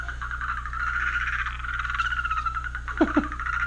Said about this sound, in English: Where's these insect sounds? Pick them up. Oh, there you go. It makes all kinds of different sounds.